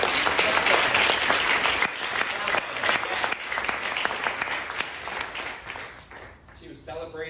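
Mourners at a celebration-of-life service clap steadily in a sustained round of applause that gradually thins out and fades, with a voice briefly heard at the end.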